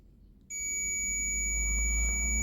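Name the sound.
multimeter continuity beep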